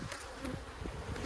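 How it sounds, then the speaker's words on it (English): Honey bees from an abandoned hive buzz in a steady, dense drone at close range, with no voices. "Any and all bees right here."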